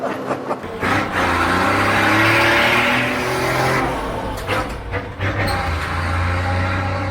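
A classic Ford D1210 truck roars under load, its engine and exhaust swelling in a loud, rising growl for several seconds before easing and picking up again, close to the listener.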